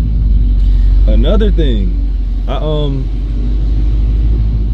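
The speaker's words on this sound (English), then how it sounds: "Let me start driving." Steady low rumble of a car interior while driving, a constant deep engine and road drone with someone speaking briefly over it.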